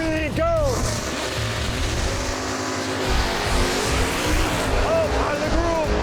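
Drag race between a 650 horsepower 1991 Mustang and a 1989 Dodge Dart on a racetrack: a loud, sustained engine roar with brief tire-squeal sweeps at the start and near the end, with talk over it.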